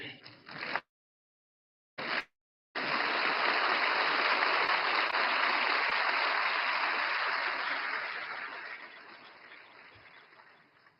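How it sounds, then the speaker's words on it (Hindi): A large audience at a formal Reserve Bank of India anniversary event bursts into broad, sustained applause, a dense wash of clapping that holds steady for several seconds before slowly fading. "सबसे ज्यादा तालियां इस बात पर पड़ी"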